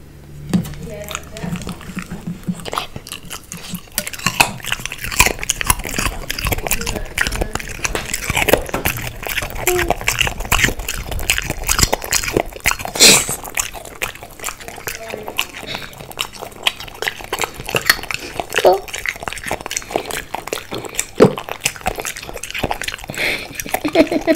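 A French bulldog puppy crunches and chews a carrot, with repeated close, wet, crackling bites and chewing throughout, while a person talks intermittently in the background.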